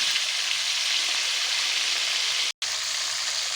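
Steady, loud sizzling and bubbling of fried tilapia cooking in coconut milk in a pan, continuous with one brief dropout near the end.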